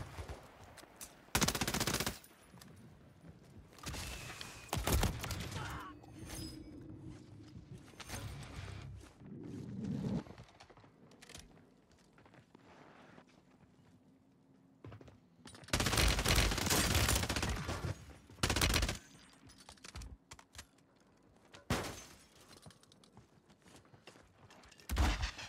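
Bursts of automatic gunfire in Call of Duty Warzone on Rebirth Island, loud clustered volleys separated by quieter stretches with faint mechanical clicks and movement, continuing across the whole span.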